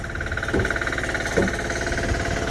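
A Bolens HT-23 garden tiller's small engine runs steadily close by, a continuous rough, knocking drone with a couple of brief louder surges, no talk over it.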